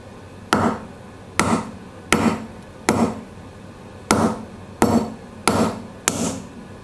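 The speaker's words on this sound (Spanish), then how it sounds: "Daremos golpecitos fuertes, pero golpes fuertes y secos, pero no solo un golpe, para evitar dañar a la semilla que se encuentre dentro" A cherry pit is cracked with sharp, dry taps to free the seed inside: eight crisp, loud, close knocks in an uneven rhythm about a second apart, with no talking.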